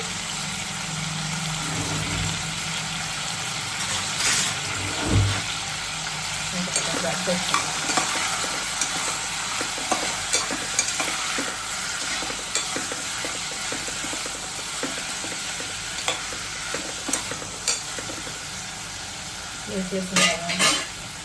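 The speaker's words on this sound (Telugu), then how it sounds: "మీకు కొంచెం ఆయిల్ వేసాను, టమాటాలు, పచ్చిమిరకాయలు, ఉల్లిపాయలు వేసేసాను" Tomatoes, green chillies and onions fry in oil in a pan, a steady close sizzle running throughout with scraping and clinks from stirring, no voices.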